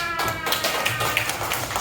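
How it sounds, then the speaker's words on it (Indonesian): Primary school children applauding in a classroom, quick scattered claps from several small hands, close and brief, with no speech over them. "terima kasih tepuk tangan"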